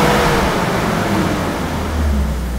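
A Jeep engine with a misfire and stumble, showing an intermittent cam or crank position signal fault, revs up close by with a loud, steady roar and no talk.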